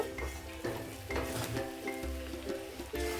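Chickpea rice mixture being stirred in a pan, a close, steady scraping and sizzling with repeated spoon strokes about every half second.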